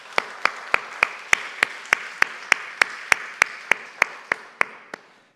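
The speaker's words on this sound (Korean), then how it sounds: "우리 다시 한번 하나님께 영광의 박수 올려드리길 원합니다" Rhythmic congregation applause at a church Sunday worship service, about eighteen sharp, evenly spaced unison claps ringing in a reverberant hall before stopping abruptly.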